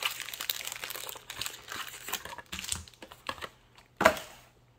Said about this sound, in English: Let's get this next box open.